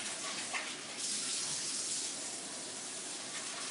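Tap water runs steadily into a container while preparing water for a hydrodip nail polish swirl craft, a soft continuous hiss and splash heard alone and fairly faint.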